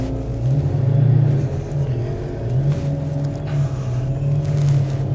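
A 5.7 car and a Mustang 5.0 sit at a drag strip staging line before launch, engines idling loud and close in a steady droning rumble with slight swells, no voices.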